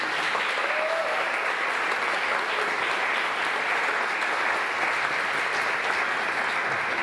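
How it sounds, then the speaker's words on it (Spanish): Sustained applause from a large concert audience, steady and dense throughout without letting up. "un fuerte aplauso para ella."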